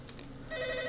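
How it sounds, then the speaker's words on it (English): A phone rings with a bright electronic tone that starts midway, after a quiet stretch, sounding fairly close and alone. "And my phone's going."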